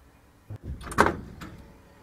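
A home door being opened, with a quick handle click followed by a louder swinging thump and a faint rattle, all close by with no talking.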